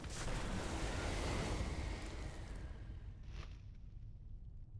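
Fire Breath spell from a Dracthyr Evoker in World of Warcraft Dragonflight: a loud, roaring fiery whoosh that bursts in, holds for about two seconds and then fades with a crackling tail, heard alone.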